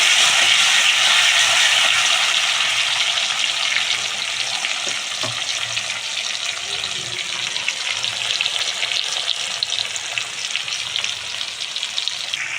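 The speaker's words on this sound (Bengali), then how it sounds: "টমেটো একটু ভেজে নেব।" Loud, continuous sizzling of chopped tomatoes frying in a pan, a dense crackle that eases slightly over time, with occasional stirring.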